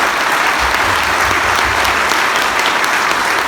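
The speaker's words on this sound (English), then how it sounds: "And also want to give a big round of applause to David Bain" A crowd at a winter camping symposium presentation applauds loudly and continuously, thick clapping filling the space with a few faint cheers mixed in.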